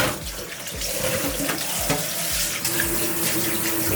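Water runs steadily from a kitchen tap as canned food is rinsed for a quinoa salad, a close, continuous splashing stream with small knocks and clatters from the sink.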